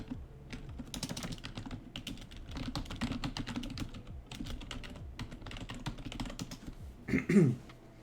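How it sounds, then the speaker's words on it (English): Fast typing on a computer keyboard, many close clicking keystrokes in uneven bursts with short pauses, ending in a louder thump, and no talking. "And I will type this."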